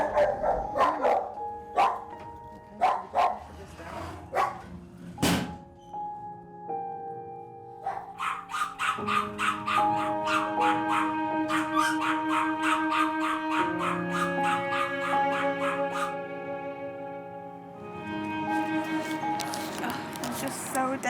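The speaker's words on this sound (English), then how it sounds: "aggressive dogs are put straight into the isolation kennels" Dogs in isolation kennels at a rescue centre bark in sharp, echoing bursts, several barks overlapping at times, loud and close with a hard reverberant ring.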